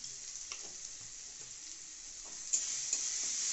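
Ground cumin and coriander stirred in a frying pan for a Bengali prawn malaikari make a soft, steady sizzle with faint scraping strokes and a couple of brief louder spits, without any talking.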